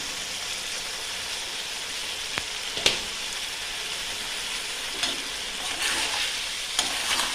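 Chicken keema with potatoes and turmeric sautéing in a pan, a continuous close sizzle with a few sharp spoon knocks and stirring scrapes against the pan, no voices.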